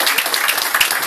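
Dense, steady applause from an audience at a Respect Party campaign launch in Halifax, many hands clapping together loudly and continuously throughout with no voices on top.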